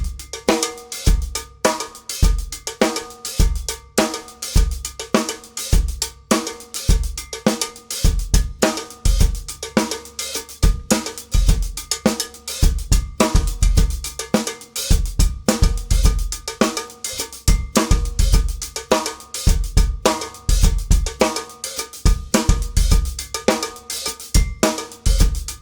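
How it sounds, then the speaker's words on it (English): A cowbell struck by the right hand rides on top of a layered drum groove, sharp metallic hits repeating in a steady pattern with kick and snare underneath, played alone without any talk. "This particular version of this groove sounds great with the right hand playing a cowbell."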